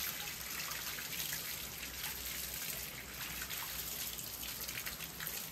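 Water running and splashing steadily over an orchid as it is rinsed clean of algae, a continuous broadband wash with no pauses and no voices.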